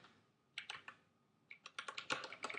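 Quiet typing on a computer keyboard in a classroom: a short burst of clicks, a brief pause, then a quicker run of keystrokes, close but soft, with no talk.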